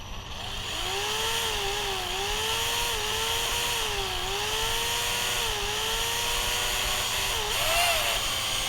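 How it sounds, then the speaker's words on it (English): A power drill grinds steadily into a lock on a farm machine, its whining tone rising and dipping as the bit bites through the metal, loud and close over a constant low engine hum, with a brief surge near the end. "I'm going to have to drill that out somehow."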